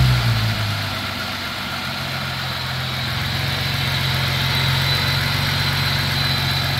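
A Jeep Pentastar engine idles steadily right after startup, a close, continuous low mechanical rumble with a slight settling in the first second and no talking.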